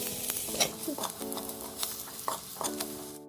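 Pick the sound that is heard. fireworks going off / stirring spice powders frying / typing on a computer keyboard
stirring spice powders frying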